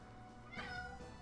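A house cat gives a single clear meow, close and fairly soft, over a low steady background hum.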